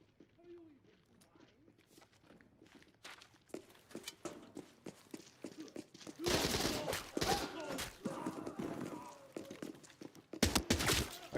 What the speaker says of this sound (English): I'm going to shoot it.